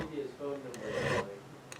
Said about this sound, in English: I've got my StewMac fret file, and I'm just going to run it along the edge of every fret and kind of over the top